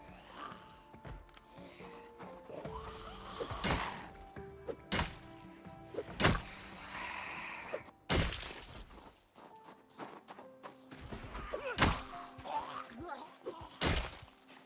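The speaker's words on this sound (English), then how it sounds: "Alright, I can pull out my actual shovel weapon now." A shovel swung as a weapon in the game Project Zomboid, thwacking zombies with a run of sharp, irregular impacts and heavy thuds, close and fairly loud.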